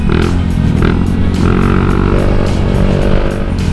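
A Honda Vario 125 eSP scooter from 2017 runs steadily on a test ride, its engine a continuous loud drone with a shifting pitch, heard up close with no talk.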